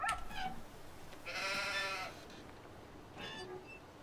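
Sheep in Farming Simulator 19 bleat faintly: a short call at the start, then a longer wavering bleat and a third brief one, over quiet background.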